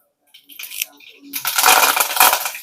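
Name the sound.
cumin and mustard seeds spluttering in hot oil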